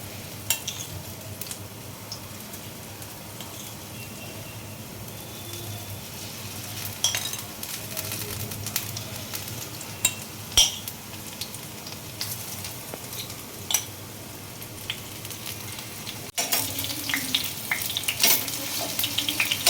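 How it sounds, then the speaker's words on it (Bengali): Spice-coated okra fries in a pan with a soft, continuous sizzle, punctuated by occasional clinks of a spatula against metal, growing louder near the end. "ভেন্ডিটা আমার ভাজা হয়ে গেছে পুরোপুরিভাবে"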